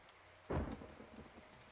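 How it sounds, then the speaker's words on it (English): A sudden thunder rumble breaks over soft steady rain in the Age of Mythology: Retold game, then fades into the continuing rainfall. "I can hear rain"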